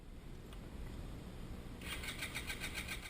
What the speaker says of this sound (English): It won't start. It will just keep on cranking forever.